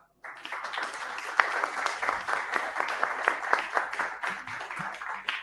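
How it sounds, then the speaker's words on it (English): A round of applause for a speaker at the close of a talk, a steady burst of many hands clapping that starts abruptly and carries on for several seconds, moderately loud. "There's a round of applause for you."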